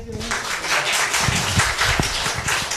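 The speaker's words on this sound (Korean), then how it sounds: "박수 좀 해줘요." An audience in a lecture hall claps together in a steady, dense patter that stays at an even loudness throughout.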